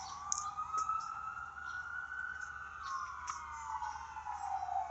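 An ambulance siren wails steadily at middle distance, its pitch rising and falling in long smooth sweeps over light background noise for about five seconds.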